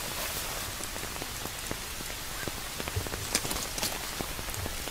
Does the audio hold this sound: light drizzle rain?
yes